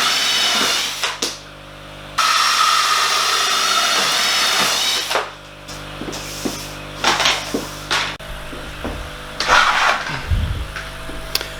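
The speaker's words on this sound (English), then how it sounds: "I'm gonna put those lids on and drill some holes in there." A power drill whirs in several bursts while holes are drilled into the lids of a reptile enclosure, close and loud, with a long sustained run early on and shorter spurts separated by handling clatter.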